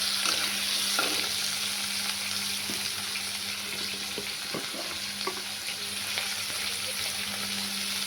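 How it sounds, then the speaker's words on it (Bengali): Tomato and green chili go into hot oil with ginger and cumin for a Bengali mixed vegetable curry, producing a constant close sizzle with scattered clicks and scrapes of stirring throughout. "টমেটো কাঁচা লঙ্কা দিয়ে দিচ্ছি।"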